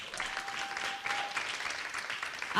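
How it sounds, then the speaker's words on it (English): Audience applause after a guest speaker's talk at Alverno, a steady wash of many hands clapping throughout, swelling louder at the very end. "another round of applause for Jake."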